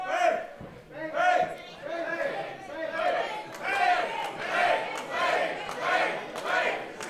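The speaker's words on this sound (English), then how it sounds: "Crowd chanting for Pain." A wrestling crowd chanting for the wrestler Pain in an arena: a large audience shouting a rhythmic two-part chant over and over, loud and steady, with crowd noise filling the gaps.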